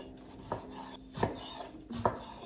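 A knife cutting two tomatoes into quarters for salsa makes three separate, moderately close chopping knocks against a board, spaced under a second apart, with faint kitchen clatter in between.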